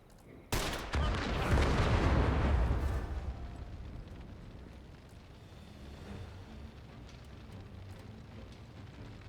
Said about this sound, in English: We'll shoot the dynamite.